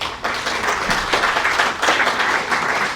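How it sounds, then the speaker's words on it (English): A conference audience at a talk on California home insurance applauds a speaker with dense, steady clapping that fills the room and holds at an even level for about three seconds. "So let's give a round of applause for Julio Juarez."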